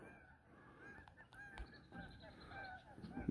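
Geese honking at a park pond with ducks and turkeys nearby, several short nasal calls rising over outdoor ambience, moderately close, with no talk.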